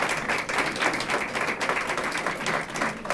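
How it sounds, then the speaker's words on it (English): An audience at an awards reception claps for an honoree, a thick, energetic round of applause that holds steady and loud throughout. "he deserves a big round of applause"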